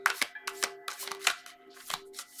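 Tarot cards are shuffled by hand in quick repeated riffles, each crisp flutter of cards separated by short gaps, close and moderately loud.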